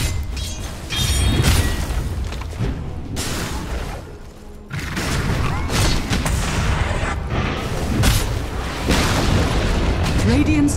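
Dota 2 tower under attack amid a busy teamfight, with dense booms, impacts and spell effects rolling continuously and loudly, layered with game announcer alerts and voices.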